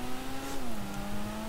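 A Dinka Sugoi sports car in GTA V accelerates near an airport, its engine holding a steady tone that drops in pitch midway, as with a gear shift, and then keeps droning.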